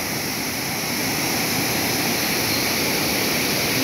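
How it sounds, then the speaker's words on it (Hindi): Roaring waterfall at Sidhnai Headworks, a loud, steady, unbroken rush of falling water, close by and heard alone without talk. "बहुत ज़्यादा आवाज़ है इस पानी की, इस आबशार की"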